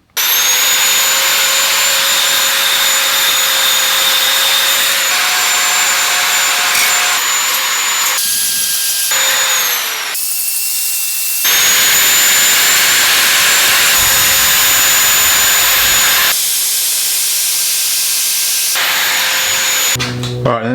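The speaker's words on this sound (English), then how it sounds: "we've got a grinder with the whole flap disc on the end of it" Loud, close angle grinder fitted with a flap disc shaping a custom leather motorcycle solo seat for a Grom, a sustained high whine that shifts pitch under load and cuts off briefly a few times.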